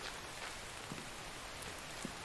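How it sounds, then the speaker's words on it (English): Rain falls steadily in The Infected video game as a faint, continuous hiss with a few soft droplet ticks. "It's rained since I started the recording."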